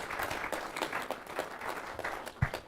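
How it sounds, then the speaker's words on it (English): An audience at a live research and innovation session applauds, with fairly faint, steady clapping throughout and a few sharper claps standing out. "They are applauding."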